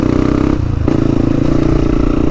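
A motorcycle on a dirt trail near coastal ruins and sea cliffs runs loud and close, its engine holding a steady revving drone that dips briefly and then pulls again, with clatter over it.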